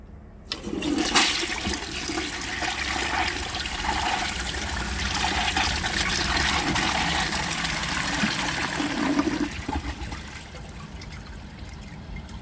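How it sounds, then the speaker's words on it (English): A 1934 Bowers Pottery toilet with its original tank and a standard flapper flushes loudly and up close, a sudden rush of water that roars steadily for several seconds before tapering into trickling refill. "Let's give this a flush and see how it does on tests."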